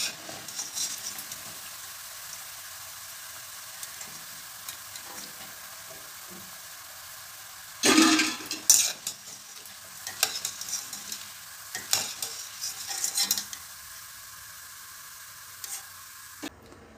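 Boondi balls for motichur laddu fry in hot oil with a soft, continuous sizzle, broken midway by a louder burst of stirring and scraping that then settles into intermittent clatter.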